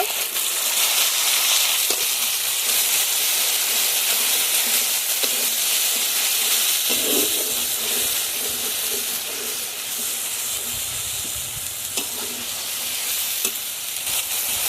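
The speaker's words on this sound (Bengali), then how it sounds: "এখন টমেটো পিউরিটা দিয়ে দেব।" Tomato puree sizzling in a pan of oil with fried ginger and garlic for a pigeon meat curry, a continuous loud frying hiss with occasional stirring scrapes and no talk.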